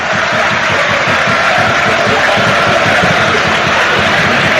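Norwich City fans in a football stadium applaud their players, a dense, steady wash of clapping and crowd noise with rhythmic chanting pulses underneath, loud and continuous throughout.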